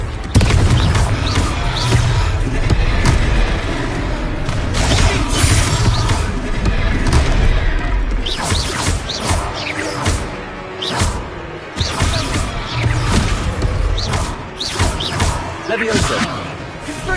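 Confringo explosive spell blasts in the Hogwarts Legacy video game, loud booming impacts repeating over dense, busy combat noise with layered effects throughout.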